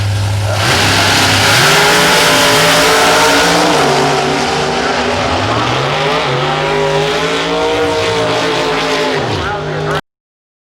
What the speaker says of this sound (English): as that car left the starting line, a little hook, a little bob, a little weave